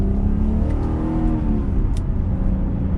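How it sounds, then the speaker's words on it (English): A 2022 BMW 740i accelerating while merging, its engine note rising and droning steadily under light throttle, heard loud and close from inside the cabin with road and tire noise beneath. "we can give it a little bit of gas as we merge"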